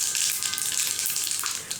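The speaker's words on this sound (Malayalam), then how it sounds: "ഇതിലേക്ക് നമുക്കൊരു 3 ടേബിൾ സ്പൂൺ വെളിച്ചെണ്ണ ഒഴിച്ച് കൊടുക്കുക. 1/2 ടീസ്പൂൺ കടുക് ഇട്ട് കൊടുക്കുക." Mustard seeds fry in about three tablespoons of coconut oil in a non-stick pan, a bright, close crackling sizzle with small pops throughout a short burst.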